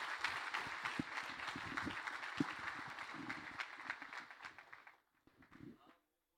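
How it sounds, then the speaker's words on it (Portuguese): A church congregation applauding during a Brazilian evangelical service: steady, dense clapping under a speaking voice that thins out and fades toward the end. "Vamos aplaudir ao Senhor mais forte para a glória do nome do Senhor Jesus."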